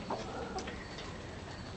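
Soft, low clucking from chickens against a steady background hiss, with no talking.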